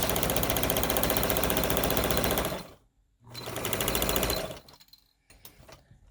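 Sewing machine stitching a tote bag strap with a very short stitch length, a loud rapid mechanical whirr running steadily for over two seconds, pausing, then a second burst, followed by quieter clicks.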